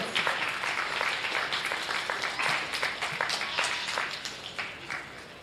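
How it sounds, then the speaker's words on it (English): A crowd at a county fair goat show gives a steady, dense round of applause, many hands clapping together without a break and tapering slightly toward the end. "Let's send them out with a very, very nice round of applause."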